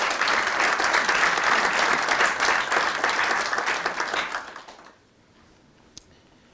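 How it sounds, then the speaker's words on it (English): An audience at a town's state-of-the-town address gives a hearty round of applause for town employees, dense clapping that holds steady and then fades out, leaving near silence. "Let's give them a round of applause."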